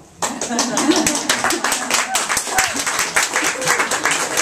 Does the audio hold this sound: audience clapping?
yes